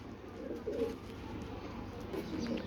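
A teddy pigeon breeder pair coos softly at close range, low murmuring calls over a quiet background.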